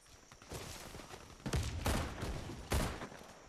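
Rapid gunfire rattles in the online shooter Warface, sustained bursts of automatic fire with several louder shots standing out, fairly distant and steady throughout.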